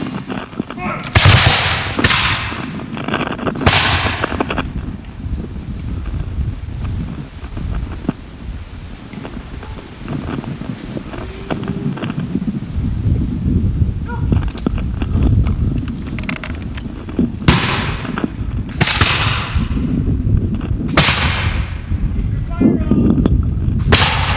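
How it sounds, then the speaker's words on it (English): French reenactors firing a volley of .69 caliber muskets outdoors, with several loud cracking shots in two clusters separated by a stretch of wind noise and crowd murmur. "All right, the French are getting ready to fire another volley."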